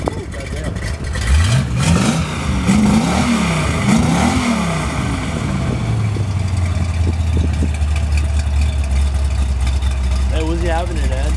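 A rebuilt Buick 350 V8 revs up loudly several times in quick bursts, then drops back to a steady rumbling idle, with people talking nearby over the engine.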